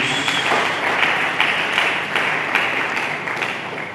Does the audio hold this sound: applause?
yes